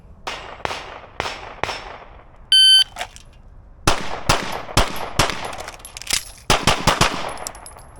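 Pistol fire in a timed shooting drill: a quick string of four sharp cracks, an electronic timer beep and a short pause for the reload, then a fast volley of about nine more close, loud shots.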